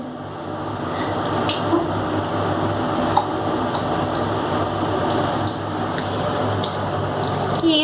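Water splashes and trickles steadily as a five-month-old baby boy is bathed, a continuous close wash of sloshing and dripping with small splashes, filling the whole stretch without pause.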